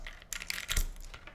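Arrow keys on a Spyder TKL prototype mechanical keyboard are tapped several times in quick, uneven succession, giving close, crisp clacks with no talking.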